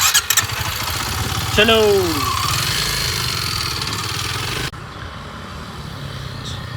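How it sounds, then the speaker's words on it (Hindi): A Kawasaki KLX motorcycle engine turns over and settles into a steady mid-pitched idle, loud and close, with a brief voice speaking over it near the start. "KLX चला रही है"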